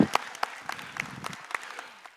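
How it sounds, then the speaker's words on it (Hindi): A small audience at an international management event claps in applause, a short patter of scattered claps that thins out within about two seconds, with no talk over it. "जिंदा दिली के लिए ताली एक बार"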